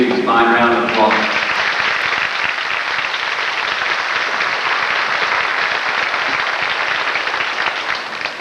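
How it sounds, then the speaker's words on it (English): An audience applauds graduating sixth grade students at an elementary school graduation, steady dense clapping filling a room for several seconds after a brief spoken line at the start, slowly thinning toward the end. "Let's give these students a fine round of applause."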